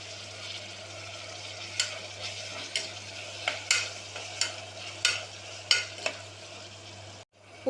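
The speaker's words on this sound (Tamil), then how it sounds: "இதோட தக்காளியை சேர்த்து வதக்கலாம்." Tomatoes sautéing with ginger garlic paste, mint and coriander for tomato rice, a steady soft sizzle with repeated scraping stirs of a spoon against the pan, under a low constant hum.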